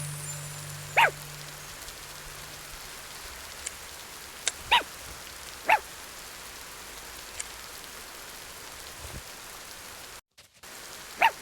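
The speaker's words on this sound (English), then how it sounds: "The dog's scared of something." Several short, sharp dog barks spaced a second or so apart against a steady hiss of rain in a detective video game scene, moderately distant and fairly faint.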